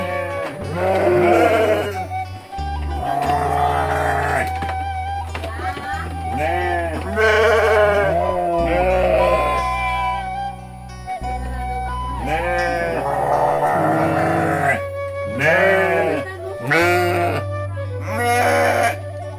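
Sheep bleat repeatedly in a rural Sundanese village in Indonesia, their wavering cries mixed in with close, ongoing conversation that runs through most of the stretch.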